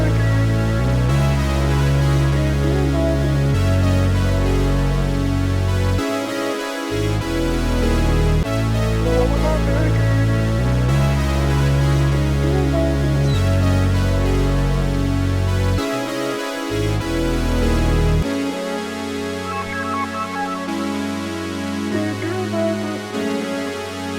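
A dense, loud music sample intro built from chopped vocals, a heavily compressed R Vox part and synth, with a heavy bass line that drops out briefly a couple of times and changes near the end.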